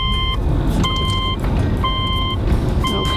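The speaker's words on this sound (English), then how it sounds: "turn ignition on" Ignition switched on in a 2008 Subaru Legacy, with a repeating electronic chime sounding in four evenly spaced tonal bursts over a low engine-bay hum, close and clear with no talking.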